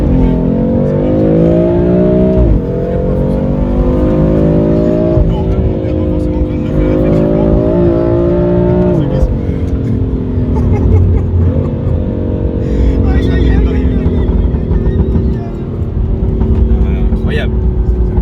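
A BMW M4 fitted with a Milltek exhaust revs and accelerates loudly and close by, its deep engine note climbing through several gear pulls with a brief drop between shifts, and voices are heard beneath the roar.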